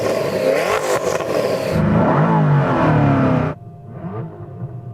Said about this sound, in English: It's just pure internal combustion engine. It sounds powerful.